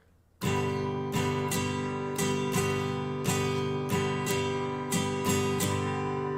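An acoustic guitar strums an eight-beat pattern with bright ringing chords and crisp, evenly spaced strokes, up close and alone after a short quiet lead-in.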